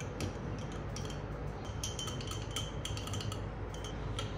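A spoon clinks and scrapes against a glass while stirring jaggery into a pumpkin drink, quick irregular taps and rattles repeating steadily over faint background hiss, close by with no talking.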